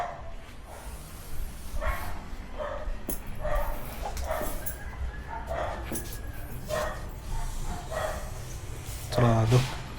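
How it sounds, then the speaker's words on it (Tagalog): A dog barks repeatedly in yips and woofs on a rural farm property with fruit-bearing trees in Silang, Cavite, heard at moderate distance under a person talking and steady outdoor background noise. "May aso."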